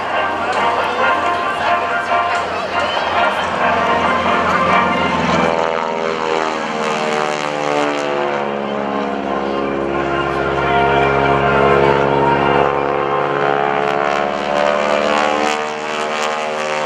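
A T-6 propeller airplane roars past at a naval air station airshow, loud and close, its engine drone sweeping down in pitch as it passes by and fades, while an announcer talks over the noise.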